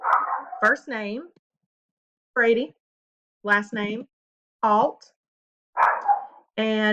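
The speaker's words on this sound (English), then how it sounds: "sorry for the barking." A dog barks in short bursts of several sharp woofs and yips, close by and loud, scattered between stretches of someone talking indoors.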